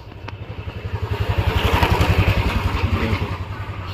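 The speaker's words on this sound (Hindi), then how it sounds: "देखो बुलेट वाले ने पूरा जुगाड़ करके फिर बाइक निकाली" A Royal Enfield Bullet motorcycle thumps along a street on a cold, foggy morning. Its loud, close single-cylinder beat runs steady and rhythmic, swelling slightly as it passes.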